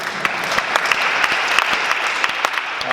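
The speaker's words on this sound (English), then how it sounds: "Let's give God a mighty hand clap" A congregation at a church revival service claps hands in a loud, dense, continuous round of applause, with many close overlapping claps and no voices standing out.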